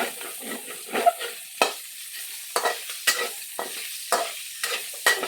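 Squash frying in oil and being stirred in a pan, with a steady crackling sizzle broken by repeated sharp scrapes of the spatula at an uneven, brisk pace.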